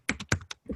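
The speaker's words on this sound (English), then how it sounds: "I hear some typing in the background" Keyboard typing in the background of an online meeting, a short burst of four or five close, crisp keystrokes in quick uneven rhythm.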